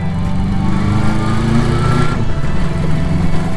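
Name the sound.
1982 Honda CB650 Nighthawk motorcycle engine while riding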